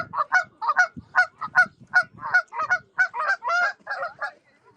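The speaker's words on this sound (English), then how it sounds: "Not happy geese." Canada geese honk angrily in a loud, rapid run of harsh calls near a brickworks pond, the birds fighting over territory and crashing into each other, with no talk over them.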